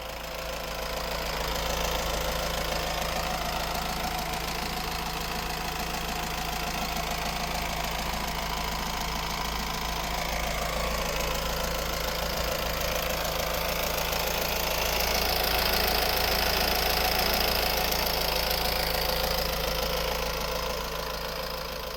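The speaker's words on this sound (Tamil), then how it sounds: "வண்டியோட இன்ஜின் சவுண்ட்லாம் கேட்டிருப்பீங்க, ரொம்பவே ஸ்மூத்தாக சூப்பராக இருக்குது." A 2014 Honda Mobilio diesel engine idling, a steady, even mechanical rumble with a faint knocking texture that holds at close range for the whole stretch with no talk over it.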